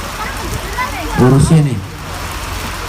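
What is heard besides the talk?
rain falling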